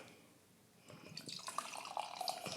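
Trillium Brewing's The Streets triple IPA pours into a glass with a soft splashing and fizzing stream that starts about a second in and continues, quiet and close.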